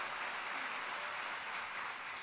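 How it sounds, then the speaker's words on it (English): A hall audience at a Foundation Day anniversary celebration greets performers with a continuous, even wash of applause, fairly distant and moderately quiet, with no voices rising above it. "Let us welcome the European second gens with a thunderous round of applause."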